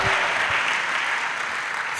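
An audience at a pastoral academy church session applauds and cheers in praise, a steady dense wash of clapping that fills the whole stretch with no break.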